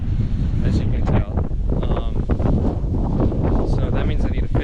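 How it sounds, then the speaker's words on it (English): Strong, steady wind roars and buffets close to the microphone on a beach, with a voice speaking faintly through the gusts. "Oh wow, it is really windy."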